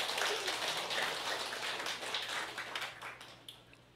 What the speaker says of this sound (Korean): 우리 송인철 사장님, 판매사님 나오실 때 큰 박수 부탁드리겠습니다.